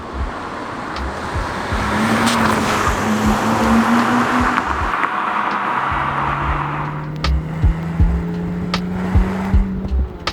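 Porsche 987 Boxster S flat-six engine heard from on board while driving, a steady mid-level drone with rising tones through the gears and a brief dip around a gearshift, continuous road and wind noise underneath.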